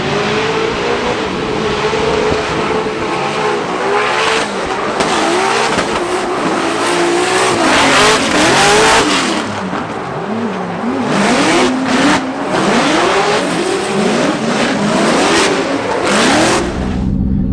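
A BMW E36 drift car on a Formula Drift Seattle lap, its engine revving hard and continuously with rising and falling pitch, mixed with tire squeal, loud and close throughout.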